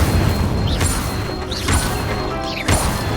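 Incendio fire spell casts in Hogwarts Legacy, three distinct bursts roughly a second apart, each a sharp whooshing flare over a steady background hum, with no voices.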